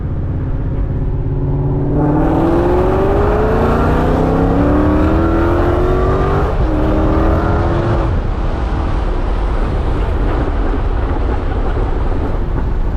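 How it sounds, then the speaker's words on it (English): A supercharged Ford Mustang engine starts up and revs hard several times, rising pitch sweeps with a high supercharger whine, then settles into a loud rumbling idle. "You can definitely hear the supercharger."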